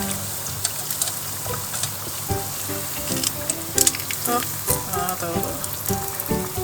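A corn dog deep frying in hot oil gives a steady crackling sizzle with scattered pops and bubbling, and a brief voice is heard in the middle.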